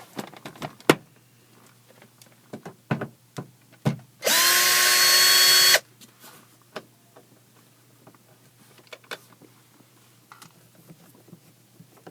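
A power driver fitted with a Torx bit runs in one steady burst of about a second and a half, backing out a sun visor bolt inside a vehicle cab, surrounded by scattered clicks and handling noises.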